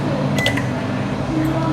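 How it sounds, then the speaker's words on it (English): An IFB microwave oven beeps as its start button is pressed for baking a chocolate cake mix, a couple of short electronic tones over a steady background hum. "Now click the start button."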